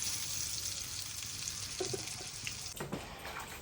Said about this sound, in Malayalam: ഇതാ മീൻ പൊരിക്കാൻ വേണ്ടി വെച്ചിട്ടുണ്ട്.